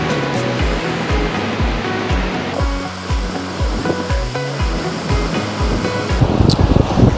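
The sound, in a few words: waves breaking on Long Set Beach, Koh Rong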